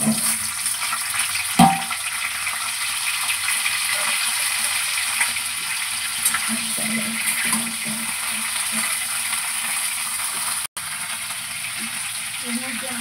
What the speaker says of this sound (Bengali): এবার কপিগুলোকে ভালো করে ভেজে নেব।